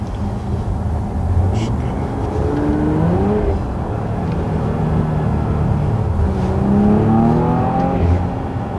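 A Porsche Cayenne GTS engine in Sport Plus mode revs and accelerates with rising, sweeping tones. The loud, continuous engine sound builds through gears and nearly fills the clip.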